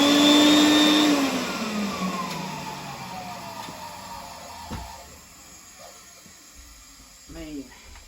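A vintage 1974 Numatic BV industrial vacuum cleaner motor whines loudly at first, then its pitch slides steadily downward as it winds down to a low hum, with a few small knocks near the end.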